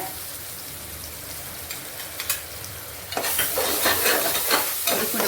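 Ginger and garlic hit hot oil in a pot of mutton biryani with a sudden burst of loud crackling sizzle. Before that is a quieter simmer with a few clinks, and after it the spattering fries on busily and close.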